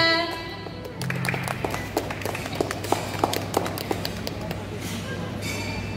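Scattered applause for a young poetry reader at a children's poetry recital competition in Purwokerto, with irregular claps over steady background hum and some murmuring.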